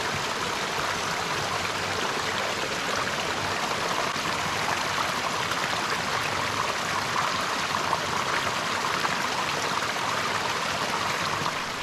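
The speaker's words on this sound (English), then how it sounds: "This is a pretty good water source, flowing really well" A stream flowing well along a hiking trail, used as a water source, gives a steady, full rushing and burbling of running water that holds at an even loudness throughout, with no voices.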